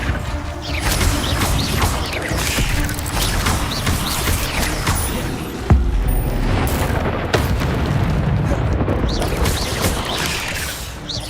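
An Incendio fire spell cast in Hogwarts Legacy, a loud, dense roar of game sound with steady rumbling and crackling mechanisms, a sharp burst midway amid continuous layered effects.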